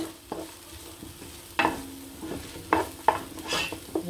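Spring roll vegetable filling is stirred in a pan, giving a steady soft sizzle broken by several distinct scraping and clinking strokes of a utensil against the pan.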